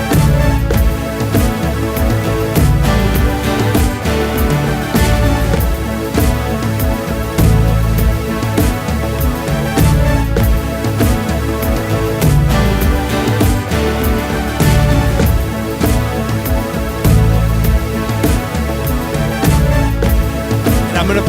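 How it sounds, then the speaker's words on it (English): Looped live-music practice with a synth line and tom drums layered behind it to build up the groove, a steady dense mix with regular percussive hits throughout, no talking. "I love every so often like using toms of drums behind it to kind of even build it up"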